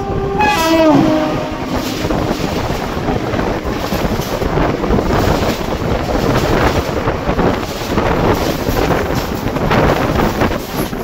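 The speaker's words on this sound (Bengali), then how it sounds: "ওদিক থেকে আসছে বিভূতি এক্সপ্রেস, প্রয়াগরাজ হাওড়া বিভূতি এক্সপ্রেস" The Prayagraj–Howrah Bibhuti Express, an Indian passenger train, passes on the opposite track with a brief horn blast at the start, then a loud, steady rolling rumble and clatter of coaches throughout, heavy with wind noise and heard from aboard a moving train.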